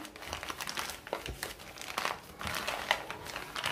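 A plastic cover crinkles and rustles continuously as dough is mixed and kneaded by hand inside it, close and fairly quiet, with irregular bursts of crackling and no voices.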